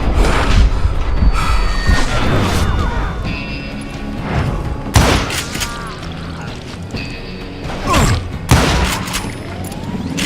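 Heavy gunfire in the Western shooter Call of Juarez: Gunslinger, with loud, irregular volleys of shots and crashing impacts over a dense, rumbling game soundscape.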